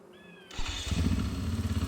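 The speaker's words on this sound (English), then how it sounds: "Oh yeah, Husqvarna FE501." Husqvarna FE501 motorcycle engine in a logging roleplay video game, starting up after a short high whine and settling into a loud throbbing idle.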